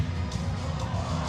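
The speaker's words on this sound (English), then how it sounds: "Crowd cheers them on." A crowd at a youth squirt-level hockey event in West Fargo cheers steadily, a dense, continuous roar of voices including children's shouts, close and loud throughout.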